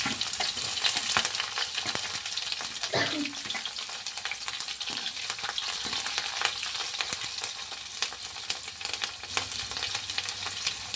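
Food sizzles steadily in a hot pan while it is stirred, with green chilli going in, giving a constant close frying hiss broken by scraping and clicking spoon strokes, with no talking.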